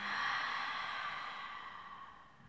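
One soft, breathy exhale during pilates floor work, near and quiet, trailing off gradually.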